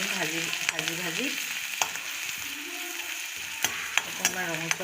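Crushed ginger and garlic frying in a pan while being stirred, a steady close sizzle with repeated scraping strokes and occasional utensil clicks, with some tonal background sounds.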